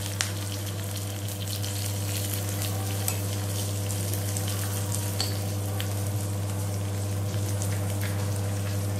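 Spices and ginger crackle in hot ghee for a pongal tempering, a constant dense sizzle close by with faint occasional spoon taps, no voices.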